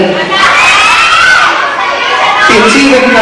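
An audience of children cheers and shouts loudly at a stage show, a dense, bright wall of young voices that holds steady and close throughout.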